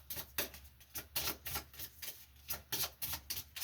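Tarot cards are shuffled by hand in rapid, repeated riffling bursts of crisp papery clatter, close and quiet, with short pauses between runs.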